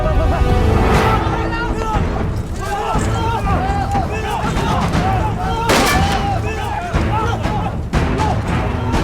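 Gunfire in a wartime drama scene, several sharp shots cracking out at intervals over tense background music and shouting voices, loud and close.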